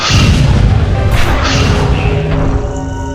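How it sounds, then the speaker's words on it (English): Zodiac grenade bomb blasting in a video game, a loud booming explosion with heavy crashing low end that stays dense and rumbling, tailing off slightly toward the end. "It's a bomb that requires me to have perfect spacing."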